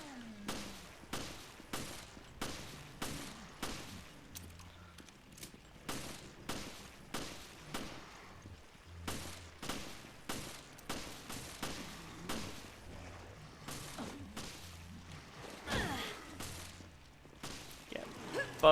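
Repeated gunshots from Resident Evil Revelations, sharp single cracks fired in quick regular bursts with short pauses between, loud and close, continuing for nearly twenty seconds with occasional low thuds underneath.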